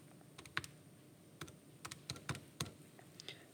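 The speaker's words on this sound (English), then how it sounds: "So I'm going to type all that in." Someone types numbers on a computer keyboard, producing a quiet, irregular scatter of individual key clicks with no talking.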